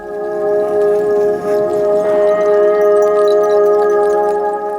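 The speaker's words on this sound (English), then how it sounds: "And then slowly a pad starts coming in." A synth pad swells in slowly over a field-recording bed, holding steady sustained tones with a soft, hazy wash of texture around them, moderately loud and without any talk.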